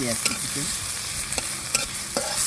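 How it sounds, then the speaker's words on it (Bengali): Chopped onion frying in hot oil in a kadai with whole cumin seeds and bay leaves, giving a steady close sizzle broken by several sharp scrapes of a spatula stirring the pan. "এখন আমি এই চালানিটাকে আমি ভেজে নিব"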